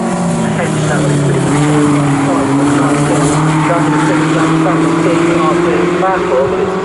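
Mazda race cars screaming around Snetterton circuit, loud engine notes rising and sliding in pitch as cars pass and accelerate, with commentary talk underneath.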